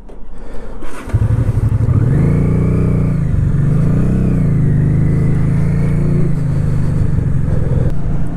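An old carbureted motorcycle engine fires up after a quiet moment, then revs loudly and close, the pitch rising and falling in several swells as the rider pulls away.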